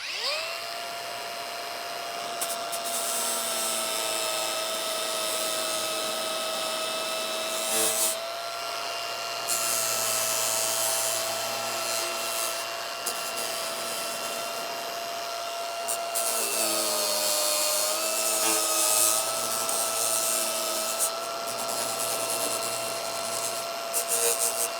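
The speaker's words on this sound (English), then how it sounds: "now I'll switch to this flap disc here" A flap disc grinds the edge of a steel winch bumper for a Toyota 4Runner, giving a steady, loud, whining drone that runs nearly unbroken for about twenty-five seconds, with the pitch dipping briefly as pressure changes.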